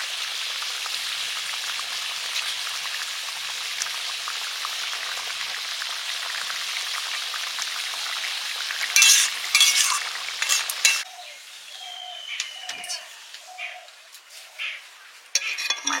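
Fish with green chili frying in a pan: continuous bright sizzling hiss, close and steady, with a few stirring clatters and scrapes toward the end.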